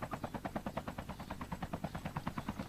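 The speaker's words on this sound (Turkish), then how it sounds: "ama helikopter geliyor." Helicopter approaching in the video game Call of Duty, a steady rapid rotor chop pulsing loud and close throughout with no talk over it.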